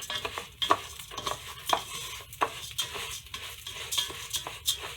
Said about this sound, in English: I'm going to keep stirring and letting it brown until it's the right kind of brown that I want